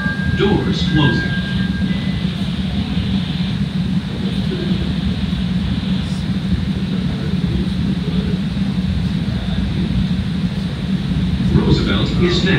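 Chicago CTA Red Line subway train pulling out of Cermak-Chinatown station after the doors close, a steady loud rumble and rail hum filling the whole clip, with a recorded announcement voice over it.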